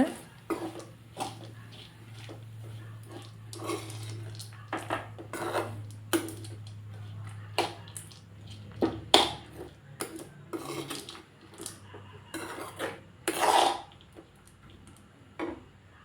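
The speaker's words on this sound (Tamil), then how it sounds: "நல்லா கிளறி விட்டுக்கோங்க. அந்த வெங்காயத்தோடு ஒன்றா பொட்டுக்கடலையும் தேங்காயும் கொஞ்சம் ஹீட் ஆகட்டும்." Onions, roasted gram and coconut are stirred in a pan, with irregular scraping and clinking strokes of a utensil over a low hum that stops halfway.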